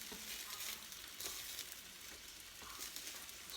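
Meat frying on a hot cooktop for Philly cheesesteak sandwiches, a steady, faint, hissing sizzle with occasional stirring scrapes and no voices.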